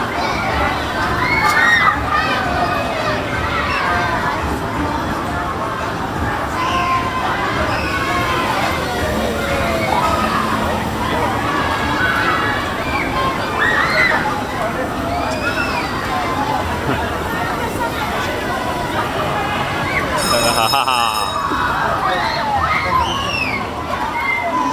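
Water sloshes and splashes steadily at a fairground water ride amid a busy crowd, with chatter and voices of onlookers running over it throughout.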